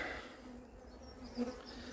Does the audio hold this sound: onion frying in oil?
no